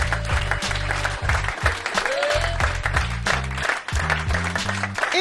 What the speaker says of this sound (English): applause for the Nation of Islam